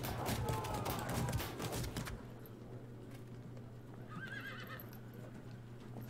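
Horses of mounted horse archers in the Field of Glory II strategy game: a dense clatter of hooves up front, then a fainter whinny over a low steady hum.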